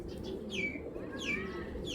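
An old-breed green pigeon, four or five years old, coos quietly and low, with thin chirps from nearby birds rising over the soft murmur.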